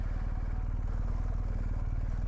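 A BMW R1250GS motorcycle engine drones with a steady low throb as the bike rides slowly along a wet, slippery mountain trail, the sound close and constant with faint clatter.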